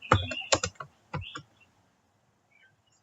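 Computer keyboard keys are pressed in a short burst of sharp clicks and taps near the start, followed by a single keystroke, then near silence with one faint tap at the end.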